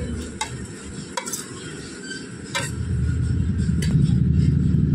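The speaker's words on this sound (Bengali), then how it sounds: "আদা বাটাটা ভালো করে গুড়ের সঙ্গে নাড়াচাড়া করে মিশিয়ে নেব।" Ginger paste gets stirred into bubbling jaggery in a pan, a low thick simmer under a few sharp spoon knocks against the rim, growing denser toward the end, no talking.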